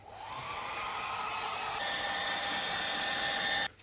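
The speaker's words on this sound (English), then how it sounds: "we're going to get the hairdryer on it" A hairdryer blows steadily on a freshly cleaned bicycle chain after an ultrasonic clean, a loud continuous whirring rush that holds for several seconds and then cuts off abruptly.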